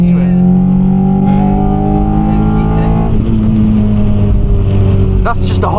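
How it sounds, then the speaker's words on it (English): A Honda Civic Type R EP3 with a holed exhaust drones loudly from inside the car, engine note shifting as it accelerates, with people talking over it. "That's just a hole in the exhaust."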